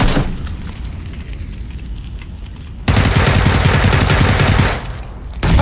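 Dense bursts of automatic gunfire in PUBG (Battlegrounds), loud and continuous rapid shots that intensify midway before easing, with no talk over them.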